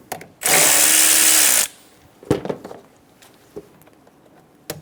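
A power tool with an 8mm socket loosens a PCV hose clamp on a 2014–2018 Chevrolet Silverado 1500 5.3L V8, one loud whirring burst of about a second, then a few faint clicks and handling knocks.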